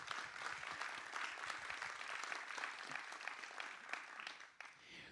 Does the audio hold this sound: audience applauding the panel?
yes